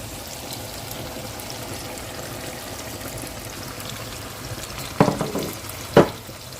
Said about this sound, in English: Then I'll add our chopped tomato.